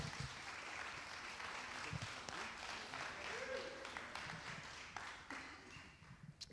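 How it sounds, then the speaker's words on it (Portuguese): A church congregation claps for the Lord during a Portuguese-language service, a steady patter of hands at moderate distance with scattered louder claps and some voices mixed in. "Aplauda ao Senhor pela vida do Paulo, amém?"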